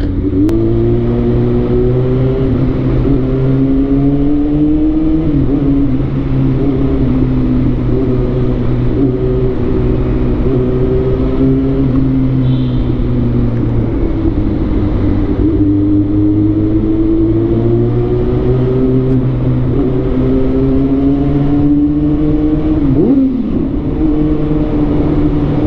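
Motorcycle engine running steadily while riding, loud and close, with harmonic drone rising and falling through several gear and throttle changes, no talk.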